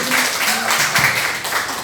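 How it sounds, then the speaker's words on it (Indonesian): An audience claps after a student presentation at a scientific paper competition final, a dense burst of applause with a voice faintly underneath. "Tepuk tangan dulu."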